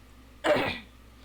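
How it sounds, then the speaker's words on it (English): A single throat clearing, loud and close, a short rough burst that fades over about half a second against a quiet room. "I also just ate, so sorry if I clear my throat a lot."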